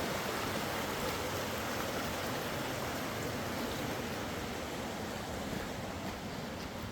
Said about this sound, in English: you got some nice stream of water going